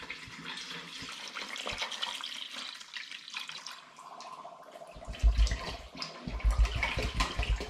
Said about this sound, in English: I'm now going to add into it 5 litres of spring water.